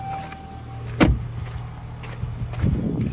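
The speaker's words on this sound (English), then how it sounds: "I'll pop the trunk." The trunk of a 2021 Chrysler 300S V6 pops open with a single sharp release thunk, followed by softer mechanical clicks and rustling as the lid rises.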